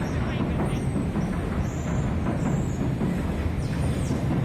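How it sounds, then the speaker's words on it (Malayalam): A train rumbles along the tracks overhead at an old London market, a steady low roar blending with the hubbub of a busy crowd and voices nearby. "ആ ട്രെയിൻ പോകും"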